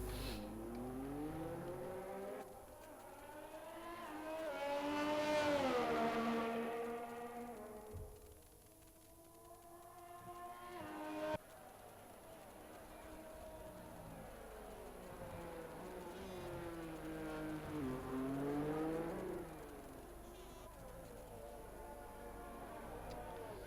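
Race cars lapping the Abu Dhabi circuit at night produce faint engine tones that rise and fall in long sweeps as they pass, fairly distant and quiet throughout.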